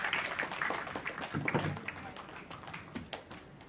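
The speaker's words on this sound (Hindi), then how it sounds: "तालियां बजती रहे श्री रोहित मालकोटी जी।" Applause from an audience at a ceremony comes as a brisk, continuous patter of many hands. It is fairly loud at first and gradually thins and fades toward the end.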